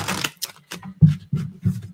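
Tarot cards being shuffled by hand, a quick run of crisp papery riffle bursts with short gaps between them, close and fairly loud with no talking.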